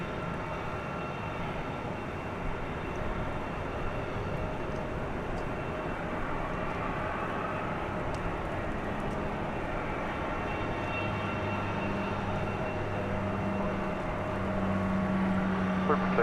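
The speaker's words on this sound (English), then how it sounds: "Takeoff 18 left." Jet airliner taking off from runway 18 left at DFW Airport at night, a steady broad engine roar from a distance that holds throughout with a low droning hum building toward the end.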